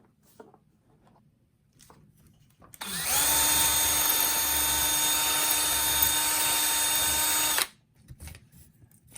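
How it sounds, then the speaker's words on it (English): A power drill bores a hole through an RC monster truck chassis to fit a rod, running loud and steady for about five seconds at close range, with quiet room sounds before and after. "Go ahead and drill this out here and get this rod through."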